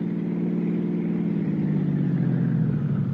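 Car cruising along a coast highway in an old radio drama, a steady close mid-pitched engine hum with a slight rise in tone, no voices over it.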